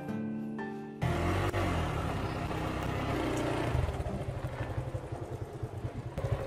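A motorcycle engine kicks in after a brief tonal hum, running steadily close by and then sputtering into an uneven, chugging idle toward the end.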